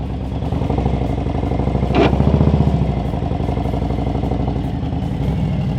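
A motorcycle engine idles with a steady low rumble at slow speed as the bike is leaned to the left and counterbalanced during a slow-speed practice maneuver, with a brief rise in revs midway.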